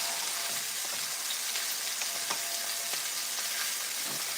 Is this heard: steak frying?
yes